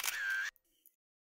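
A single-lens reflex camera fires one shutter release in a quiet room, a short close mechanical clack followed by a faint click as the mirror settles, then silence.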